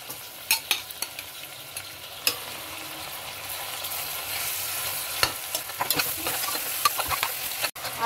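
Mutton pieces, about 300 grams, fry with garlic, onion and bay leaf in a pan on low flame, giving a steady close sizzle broken by sharp scraping clicks of a stirring spoon, with no voices.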